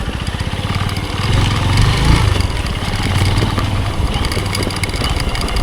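A motorcycle engine runs steadily at close range on a rough rural road, a low rumbling drone that swells slightly midway, with no voices.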